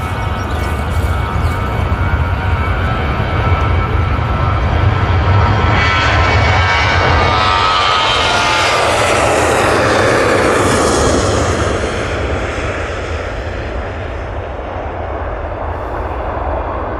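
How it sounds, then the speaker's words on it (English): A Jet2 Boeing 737 airliner departs Manchester Airport, its engine roar building to a loud, broad jet whoosh that peaks midway and then slowly fades into the distance. "Jet 2, 737, off to Mytilene."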